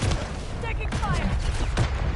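Gunfire in a Modern Warfare III style multiplayer match, rapid crackling shots and small booms in a short busy burst, mixed with voiced game callouts.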